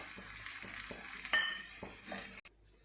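Taro root sabzi, or arbi ki sabzi, sizzles in a pan as coriander leaves are stirred through, a steady frying hiss broken by soft scraping strokes and a sharp clink, close and moderate in volume.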